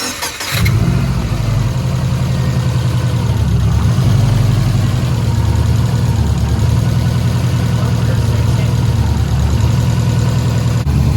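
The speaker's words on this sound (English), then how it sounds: "The car still runs, so that's good." Big-turbo Subaru Forester, just fitted with a 1000+ HP rated fuel filter, cranks over and settles into a steady, loud, deep idle that runs on without variation.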